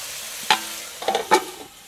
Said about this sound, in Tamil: கொஞ்ச நேரம் தக்காளி நல்லா வதங்கட்டும்